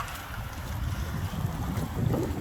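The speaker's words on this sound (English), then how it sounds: "it is really, really windy right now" Strong, gusty windstorm wind with rain, buffeting the microphone as a loud continuous roar with surging gusts and no voices.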